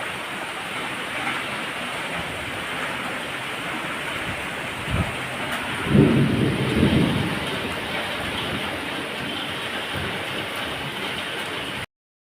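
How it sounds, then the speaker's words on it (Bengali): Heavy rain falls in a constant loud rushing hiss outside a house, broken midway by a couple of deep thunder rumbles, with no one speaking. "বৃষ্টি শুরু হয়ে গেছে ভালোই জোরে।"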